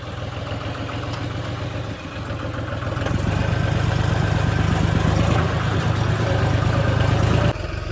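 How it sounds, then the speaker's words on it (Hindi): A tractor engine left idling on a farm near a harvester, a steady mid-low diesel rumble with a regular throb that grows louder partway through and then drops off near the end, with no voices. "भाई ने ट्रैक्टर बंद ही नहीं किया"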